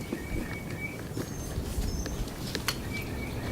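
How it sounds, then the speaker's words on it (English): Faint, thin high bird chirps come and go inside a building in the ghost town of Girvin, Texas, against a steady background hiss, with occasional soft taps and patter nearby. "the birds are tweeting in here"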